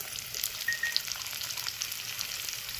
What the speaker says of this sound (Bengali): এবার এটাকে ভালো করে ভেজে নেবো আলু আর পেঁয়াজটা বেশ লালচে করে ভাজতে হবে